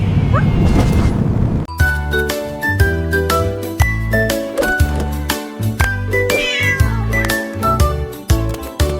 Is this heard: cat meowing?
yes